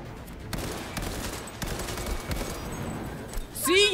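Rapid gunfire in Cyberpunk 2077 combat, a steady rattle of shots at moderate volume with a few sharper bursts, ending in a brief electronic whine.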